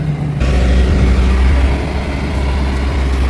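Steady low engine rumble of a 6W wheeled excavator loading rice straw nearby, a continuous droning hum with no talking.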